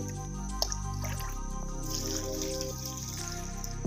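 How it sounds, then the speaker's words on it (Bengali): Water trickling onto newly planted marigold plants, a steady close pour with a few light splashes and drips, running continuously and alone. "গাঁদা ফুলের গাছ লাগিয়েছি, জল দিচ্ছি।"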